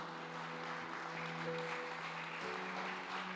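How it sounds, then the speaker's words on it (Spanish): Church congregation applauding during a sermon, a soft, distant wash of clapping under a sustained musical tone, steady throughout with a slight shift midway. "Denle un aplauso al Señor, iglesia."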